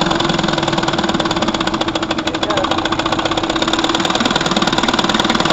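A 1955 Johnson Seahorse 10 outboard motor idling as slow as it will go before being put in gear, a steady loud rapid putter with a fast even pulse, close and continuous throughout.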